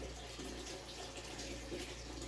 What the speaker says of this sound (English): She's doing a bucket of water